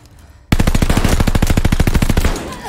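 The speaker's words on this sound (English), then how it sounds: "I don't know what he's shooting at me." Enemy machine-gun fire in the video game Call of Duty Vanguard, a loud, rapid, evenly spaced burst of shots lasting about two seconds after a quiet start, then fading out.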